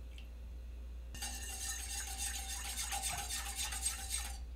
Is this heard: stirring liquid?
yes